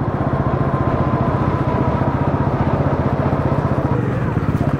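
Bajaj Pulsar NS 400 motorcycle engine under way on the road, a loud, steady, rapid pulsing throb with mechanical clatter that holds throughout.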